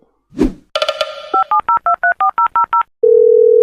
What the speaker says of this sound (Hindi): पुलिस को फोन करो